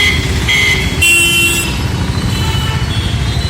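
Dense morning road traffic at the Sungam junction roundabout in Coimbatore, with a steady engine rumble and several loud car horn toots, one long blast and shorter honks overlapping near and far.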